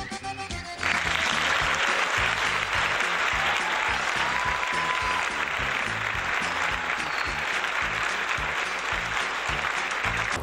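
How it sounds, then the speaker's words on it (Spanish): A studio audience on a Texas conjunto television show bursts into applause after a brief quiet moment, then keeps up a full, even roar of clapping for about ten seconds. "El aplauso para ella,"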